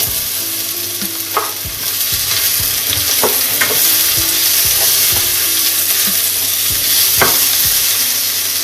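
Onion and potatoes sizzling loudly in hot oil in a frying pan, with steady close frying hiss and scattered scrapes and knocks of stirring throughout, no talk.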